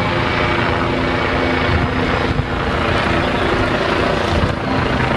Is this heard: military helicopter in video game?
yes